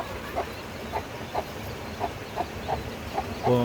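A white naked-neck hen with newly hatched chicks makes soft, repeated clucks at a steady rhythm, faint against a constant background hiss.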